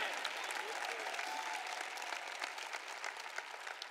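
A church audience applauds during a sermon, a dense, sustained wash of clapping heard from within the hall, with faint voices mixed underneath.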